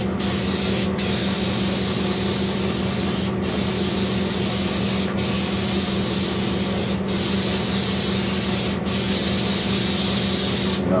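Spray foam adhesive hissing continuously onto a 1978 Nova roof liner during upholstery, a loud steady spray with brief pauses between passes.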